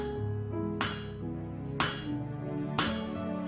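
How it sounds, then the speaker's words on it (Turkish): Three evenly spaced metallic hammer strikes ring out on an anvil as a heated screw is shaped in a cartoon, each clang bright and sharp over a sustained musical tone. "Çekiçle vurarak vidaya istediğimiz şekli verebiliriz."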